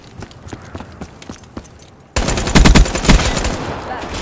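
Cerberus submachine gun in Black Ops 3 fires a quiet volley of separate shots, then a much louder dense burst of automatic fire from about two seconds on, with some game noise under it.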